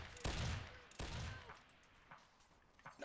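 Musket volleys crack out in a Mount & Blade: Napoleonic Wars line battle, two loud massed blasts in quick succession followed by scattered fainter shots, with some voice chatter in the background.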